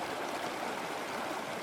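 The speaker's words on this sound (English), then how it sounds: "the waterfall sounds just kicked in." Steady rushing waterfall from a Star Trek video game, a constant broadband roar of falling water with a gurgling, stream-like texture, fairly close and continuous with no talk over it.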